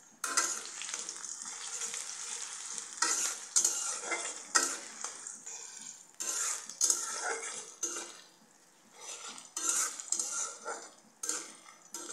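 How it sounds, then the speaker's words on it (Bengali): Chopped onions sizzle steadily in hot oil with bay leaves for a broiler chicken curry, a spoon scraping and clattering against the pan in repeated bursts, close and fairly loud, with no voices. "পেঁয়াজটা লাল হওয়া পর্যন্ত ভেজে নিতে হবে।"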